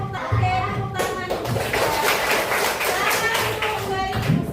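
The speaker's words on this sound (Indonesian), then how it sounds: "Oke, tepuk tangan." Schoolchildren in a classroom break into a dense burst of hand clapping that carries on steadily and loudly for several seconds, with voices mixed in.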